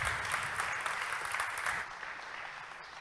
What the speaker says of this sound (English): Big applause for Lejla.